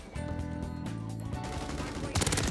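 In Modern Warfare 3, a quick burst of rapid gunfire breaks in near the end, loud over the steady background music of the game.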